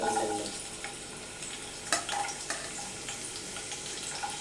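Chopped ginger frying in oil for a spicy chicken soup, giving a quiet, steady sizzle broken by a few light clinks and stirring sounds.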